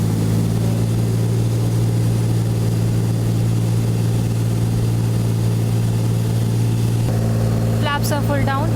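A light propeller aircraft engine drones steadily just after takeoff, giving a loud, constant low hum. A brief voice cuts in near the end.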